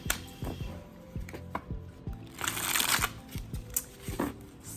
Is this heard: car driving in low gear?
no